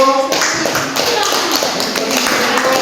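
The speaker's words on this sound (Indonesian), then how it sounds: "Kita berikan aplaus untuk Janto." Classroom applause for a student, a scattered patter of clapping hands that carries on steadily, with a voice speaking over it.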